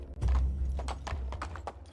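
Donkey hooves clip-clop in a steady walking rhythm in the video game Medieval Dynasty, close and clear over a low rumbling background.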